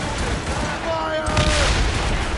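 A burst of ship cannon fire in an Assassin's Creed Rogue naval fight, a loud boom swelling near the end after a stretch of crew shouting and rumbling ambience.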